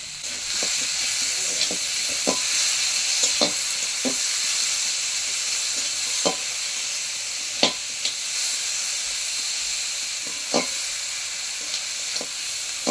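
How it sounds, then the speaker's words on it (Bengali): Tomatoes sizzle steadily with onions in a hot pan with a constant hiss, broken by occasional spoon scrapes and light taps as they are stirred. "টমেটো তো খুব ভালোভাবে ভাজা হয়ে গেছে"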